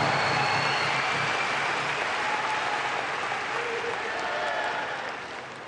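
An audience applauds steadily at a speech, a dense, loud wash of clapping that holds for several seconds and then begins to ease off toward the end.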